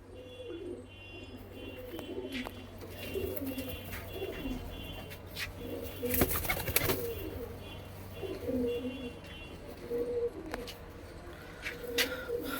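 Malwai pigeons coo repeatedly in soft, low warbling phrases, with a few chirps and a brief rustling burst midway; no one speaks.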